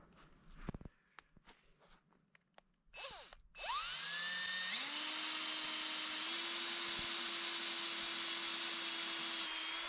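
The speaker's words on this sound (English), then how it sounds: "All I gotta do is drill it out and put the battery here." A few footsteps and handling clatter, then an electric drill spins up with a rising whine and holds a steady high-pitched grind as it bores through metal.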